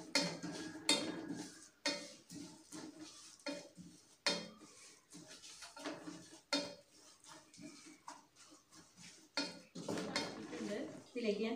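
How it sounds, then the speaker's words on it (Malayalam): Chinese potato pickle with salt being sautéed in a pan: a steady run of close, loud metal spatula scrapes and clinks against the pan in an uneven rhythm, with no talking. "ഇനി ഇത് നന്നായിട്ട് നമുക്കിത് വഴറ്റാം"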